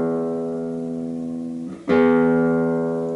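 A classical guitar string is plucked with the fingernail, first ringing on as a sustained harmonic tone before a second crisp pluck attacks sharply and rings out clearly, close and alone.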